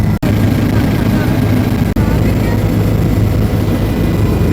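Helicopter flight toward Kedarnath in the mountains: a loud, constant engine and rotor drone fills the cabin throughout, with a steady low hum and no break apart from two tiny dropouts.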